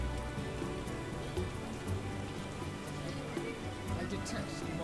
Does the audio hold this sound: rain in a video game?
yes